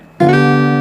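A single fingerstyle guitar note slid from F up to G on the first string, ringing out clearly and sustaining alone after a quiet start.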